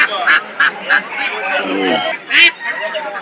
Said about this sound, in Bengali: পর্যাপ্ত পরিমাণে হাঁস কিন্তু আমরা দেখতে পাচ্ছি এই হালুয়াঘাট বাজারে কিন্তু নিয়ে আসছে।